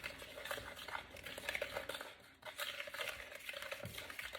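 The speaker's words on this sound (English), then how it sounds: "Now it says to mix this well, so we're just going to mix it with our teaspoon." A teaspoon stirs and mixes dry ingredients in a bowl, giving soft, repeated scraping and clinking at a faint, close level. There is no talk.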